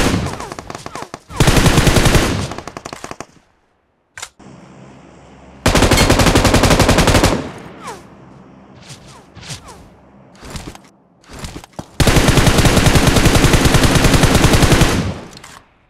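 Long bursts of rapid automatic gunfire from PUBG Mobile played on a PC, loud and close, broken by short pauses with scattered single shots and thuds between the volleys.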